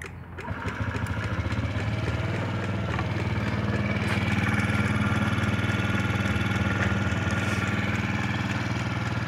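A Honda Ruckus scooter engine starts and settles into a steady, buzzing idle, close and continuous for several seconds, with a faint rattling vibration and no voices.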